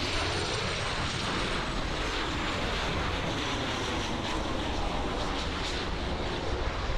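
Lufthansa Boeing 747-8 taking off at Miami International Airport, a dense, even engine roar filling the whole stretch without pause, moderately loud and with no voices.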